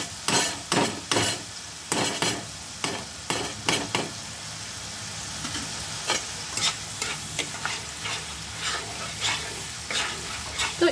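Onions fry in ghee in a pan for a chicken curry, with a steady sizzle under repeated sharp spatula strikes and scrapes, clustered in rapid bursts at first and then spread out more unevenly.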